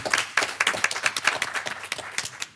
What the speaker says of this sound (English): Chris, if you want to stand up so we can give you a round of applause for stepping up.